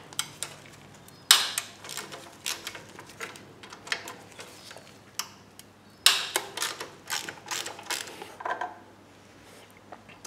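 Metallic clicks, ratcheting and small tool clatters while the oil pickup is taken off a Toyota MR2 engine, irregular bursts of mechanical work close by with no talking.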